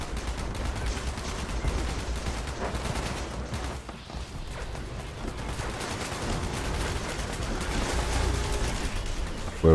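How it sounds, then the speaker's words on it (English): Missile launcher fire raining down from space in the video game Fallout 76, a dense rumbling barrage of rapid gunfire-like bursts and booms, sustained and loud throughout. "gotta back up from all that missile launchery from space"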